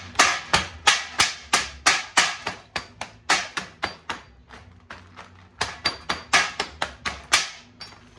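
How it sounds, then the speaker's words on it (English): Rapid, repeated hammer blows breaking apart plastic and copper from elevator parts, close and loud, keeping an uneven rhythm with a short pause midway. "I just hit it with a hammer a couple times"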